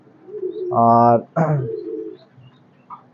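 Pigeons at a high-flying and fancy pigeon seller's coop give a loud, close, harmonic coo lasting about half a second, followed by a second shorter coo, with someone talking quietly around and after them.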